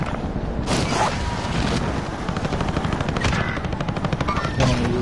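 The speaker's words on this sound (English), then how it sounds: "there's an attack chopper" Attack helicopter in the video game Call of Duty Warzone, a steady loud rotor thrum through the whole stretch with bursts of automatic gunfire and mechanical clatter layered over it.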